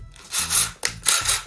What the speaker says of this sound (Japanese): こっからインパクトを使って、このヤスリでぐわーっと穴を広げていきます